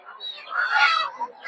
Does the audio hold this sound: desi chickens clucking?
yes